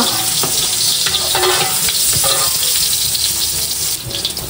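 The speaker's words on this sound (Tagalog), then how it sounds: "magigisa na po ng rekado" Aromatics sauté in a hot pan for pancit habhab, a dense, loud sizzle with rhythmic scraping stirs close up, briefly easing near the end.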